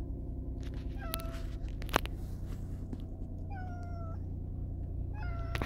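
A cat meows in a car on the way to the vet, a few drawn-out plaintive meows spaced apart over a steady low engine and road rumble.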